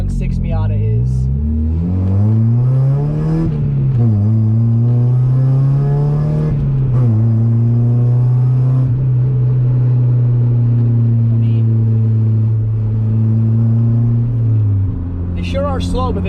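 A 1.6-liter NA Mazda Miata accelerating on a highway, the engine note climbing steadily through the gears with brief dips at shifts, loud and close from inside the car with road rumble beneath.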